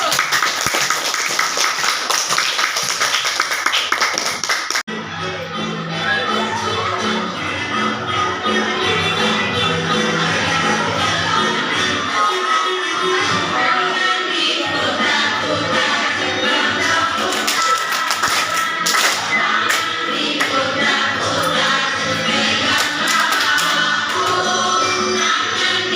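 A classroom group gets a sustained round of clapping from the class, steady and fairly loud for over twenty seconds, with a voice speaking briefly at the start.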